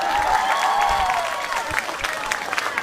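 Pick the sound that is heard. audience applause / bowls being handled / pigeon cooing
audience applause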